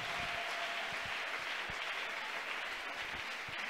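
A church congregation claps together at a worship service, a dense steady wash of hand claps at moderate distance, continuous throughout.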